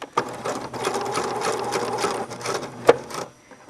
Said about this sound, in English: So the first thing I do is basically sew a big box.